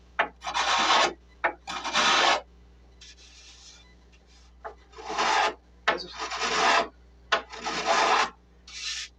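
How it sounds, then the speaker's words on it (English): A small hand planer shaves the raised edges of miniature dollhouse walls in about eight close, rasping strokes of uneven length, separated by short pauses, with no talking. "we're going to take our little planer and work on getting some of these edges that stick up"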